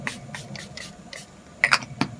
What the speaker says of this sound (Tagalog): Lagyan na natin ng setting spray.